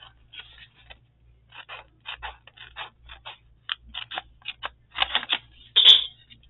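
Close, crisp snips and rustling as scissors cut through paper, a run of short irregular cuts ending in a louder final snip.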